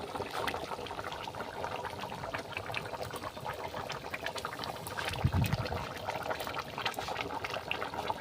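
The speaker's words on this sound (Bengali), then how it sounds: "এবার পরিমাণ মতো জল দিয়ে দেবো।" Water poured into a pot of chicken and papaya curry, a steady bubbling, trickling wash that runs throughout at moderate loudness, with a brief heavier splash near the middle.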